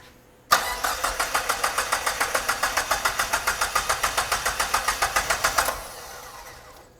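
A 1985 Dodge minivan fitted with an SRT4 turbo engine cranks over on the starter for about five seconds, a loud, steady rapid chug of regular pulses that cuts off abruptly without catching.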